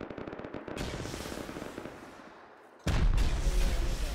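Rockets fire and explode in a video game: a rapid stuttering volley of launches, then a pause before a sudden loud, booming blast rolls on to the end.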